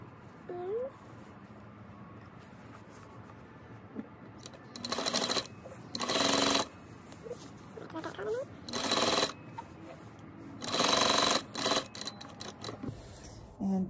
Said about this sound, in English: just start sewing up the bottom